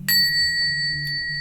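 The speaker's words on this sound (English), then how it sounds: "We're going to ring the bell here, y'all." A bell is struck once, giving a bright ding that rings on with steady sustained tones and fades slowly, with a faint second tap partway through.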